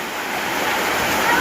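A rainstorm with strong wind and falling hail makes a dense, continuous roaring wash that swells slightly louder toward the end.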